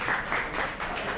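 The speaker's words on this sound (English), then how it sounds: "give me a round of applause" Brief burst of audience applause welcoming a speaker to the stage at a community wellness talk, a steady wash of clapping from a nearby crowd lasting about a second.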